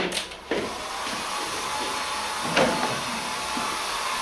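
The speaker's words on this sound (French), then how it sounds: "Alors laisse-moi te sécher les cheveux" Hair dryer blowing on someone's hair during a stage play, a steady airy hum running throughout with a few soft bumps and clicks near the start and middle.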